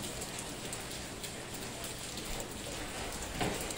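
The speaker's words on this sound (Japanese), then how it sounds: "雨。" Steady rain falling in Jiufen, Taiwan, a soft even hiss of drops spattering on surfaces nearby, continuous and fairly quiet, with a slightly louder patter near the end.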